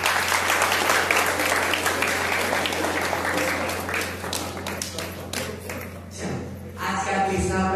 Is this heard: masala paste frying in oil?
no